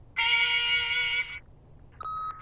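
A long, steady electronic tone from an answering machine in The Wolf Among Us sounds clearly for about a second, followed after a pause by a shorter, thinner beep.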